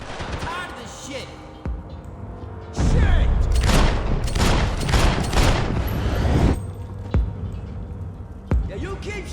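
Max Payne 3 gunfight with bursts of loud, rapid automatic gunfire and booming shots, clustered in a dense volley midway with scattered single shots around it, mixed with shouting voices.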